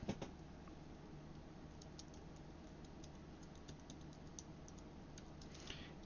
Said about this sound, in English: that's my keyboard